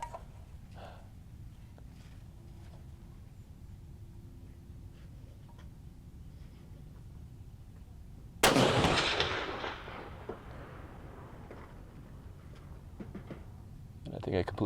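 .308 Winchester rifle fires a single loud, sharp shot at a steel popper target, with a decaying echo following it, set against quiet outdoor range ambience.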